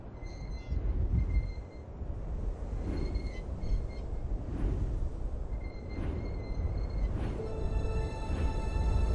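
Train rumbling along in the video game Syberia, a steady low rolling roar with intermittent high metallic whines and tones, continuous throughout with no talk.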